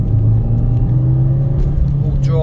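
A Fiat Panda 100hp with high mileage drives along, its engine humming steadily with low rumble and slight revving, and a voice talks briefly over it near the end.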